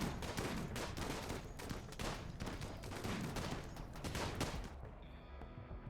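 RimWorld video game gunfire: rapid, dense bursts of small-arms shots crackling almost continuously at moderate volume, thinning out in the final second.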